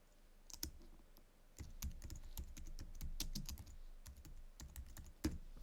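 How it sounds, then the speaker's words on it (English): Steady typing on a computer keyboard while a business name is entered into an invoicing program, with close, crisp keystrokes in irregular bursts and short pauses, no talking. "So first you'll want to type in the business name."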